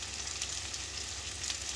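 Meat browns in a hot pan with a steady, dense sizzle that fills the whole moment, close and even, with faint scraping as it is stirred with a wooden spoon.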